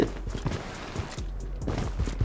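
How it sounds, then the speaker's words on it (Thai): Footsteps of another player moving on the floor below in the shooter game Blood Strike, a steady run of soft, low thuds that stays muffled and fairly faint under a continuous game background. "มีเสียงเท้าด้านล่างเราด้วย"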